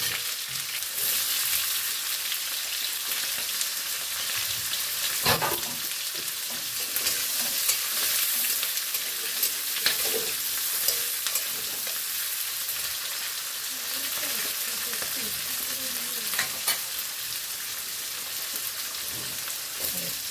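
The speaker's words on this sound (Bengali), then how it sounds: "শুকনো লঙ্কা ফোড়ন দিলাম, জিরে ফোড়ন দিলাম, পেঁয়াজ কুচি দিলাম" Chopped onion, dried red chillies and cumin seeds sizzle in hot oil for a Bengali yogurt fish curry, a steady close frying hiss broken by occasional clinks and scrapes of stirring.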